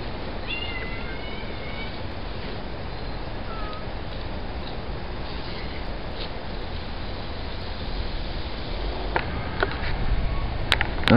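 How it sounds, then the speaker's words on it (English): A cat meows a few times, faint and somewhat distant, against a steady hiss of outdoor background noise. "There's my kitty Autumn."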